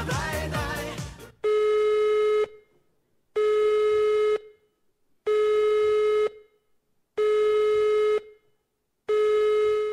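A brief burst of jumbled sound, then five loud, evenly spaced electronic telephone tones, each lasting about a second with silent gaps between them.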